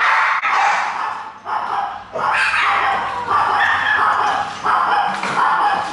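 Many dogs at a rescue shelter in Thailand bark, yip and whimper at once, a loud, continuous chorus of overlapping barks close by, with a few short pauses.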